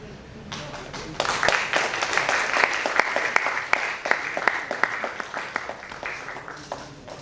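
Audience at an institute award presentation ceremony breaks into sustained applause, many hands clapping in a dense, lively wash that swells and then slowly thins out.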